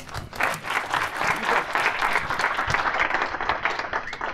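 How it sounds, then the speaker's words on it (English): An audience at a startup pitch session claps for the presenters, a full, steady round of applause with individual claps audible, continuous and fairly close. "Round of applause."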